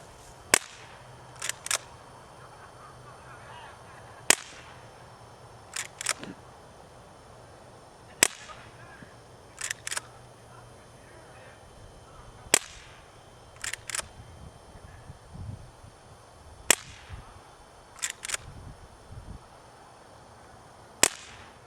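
A Walther lever-action CO2 pellet rifle fires RWS Hobby pellets: about six sharp, isolated cracks spaced several seconds apart, each followed by a pair of softer metallic lever clicks, in a quiet room.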